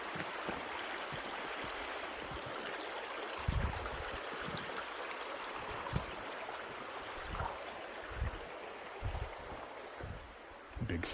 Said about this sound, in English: This little river is a little hard to cross sometimes because it's pretty deep in spots.